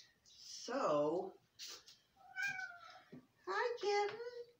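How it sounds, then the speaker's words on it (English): A kitten meows several times in short, close, expressive bursts with brief pauses between, loud and clear, with no talking over it. "my kitten's talking to me."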